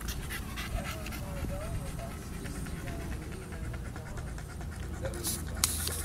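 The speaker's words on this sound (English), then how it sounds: "You're a good puppy girl" A dog pants rapidly and steadily, with occasional soft high whimpers, while a person talks gently nearby.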